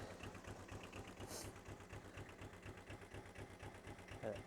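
Arctic Cat Diesel 700 side-by-side idling low, with a steady, rhythmic diesel chug that pulses evenly throughout and has a faint clatter. The sound is quiet and continuous.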